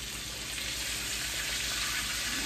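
Homemade chicken frying in oil, giving a steady, dense sizzle that stays loud and even throughout with no talking.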